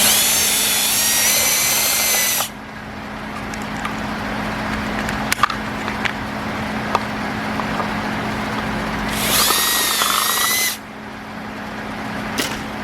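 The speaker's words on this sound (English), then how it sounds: "put your step bit back in your drill" A power drill fitted with a step bit whines loudly for a couple of seconds while drilling a hole, stops, then runs again in a second burst, with quieter clicking and handling noise between.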